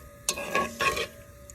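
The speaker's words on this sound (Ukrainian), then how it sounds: "Маринад починає кипіти, кидаю огірки." Cucumber marinade bubbles and sizzles in a pot as cucumber pieces are dropped in with a few splashy bursts, close and moderately loud, no talking.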